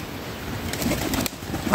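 Pigeons coo low and steady in a loft amid a rustle of wings and shuffling, with a noisy, enclosed background and a faint voice.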